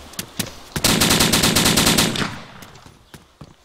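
Sustained automatic gunfire in a shooter video game, a loud burst of rapid shots lasting over a second, with a few single shots before and after.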